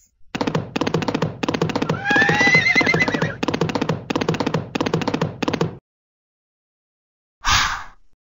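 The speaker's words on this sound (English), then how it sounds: "Horses." A horse whinnies in a rapid, pulsing series of bursts lasting several seconds, then falls silent before one short final snort.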